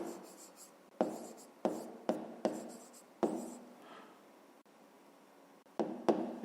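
Pen strokes scratch out numbers for a fifth-grade maths exercise, heard as a string of short, crisp taps and scrapes with brief pauses, close and quiet.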